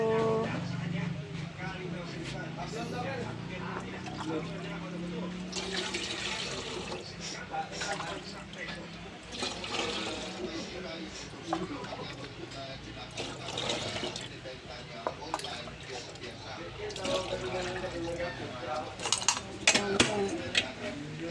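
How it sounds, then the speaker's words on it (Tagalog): Water runs and splashes from a tap, rising and falling in bursts, with people talking throughout. "Ay, tubig ang amon gripo."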